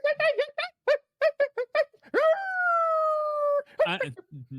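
A human voice imitates a coyote, first with quick yipping chitters, then a long sustained rising howl, and ends with more short yips, loud and close.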